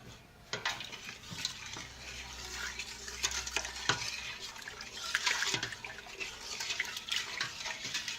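A utensil stirs bread and butter pickle liquid in a pot near a rolling boil; it sloshes and swirls with scattered clinks against metal and a steady, fairly soft watery churn.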